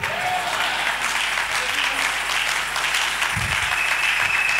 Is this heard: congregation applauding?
yes